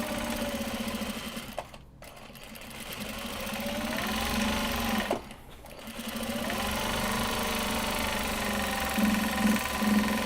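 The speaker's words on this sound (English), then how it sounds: "press that webbing down so it's a little bit more compressed as I'm actually sewing over it" A sewing machine stitches over compressed webbing for a fabric cake cozy, running in a steady mechanical whir that stops twice briefly before carrying on, close and alone.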